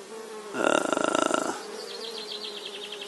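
Honeybees buzz at a hive entrance flight board in spring, a loud close droning swarm of wingbeats for about a second, then fainter buzzing of bees coming and going continues.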